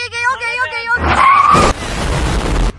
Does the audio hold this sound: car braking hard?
yes